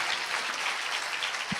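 A church congregation claps in dense, steady applause for their pastor, a continuous broadband patter filling the whole stretch at moderate level with no voices over it.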